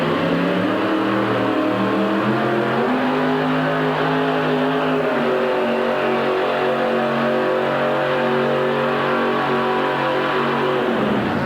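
A lime green monster truck with a Ford cab and Chevy engine revs at a 1989 USHRA event in Hartford, a loud, steady engine drone whose pitch rises and dips over about eleven seconds, with no talk over it.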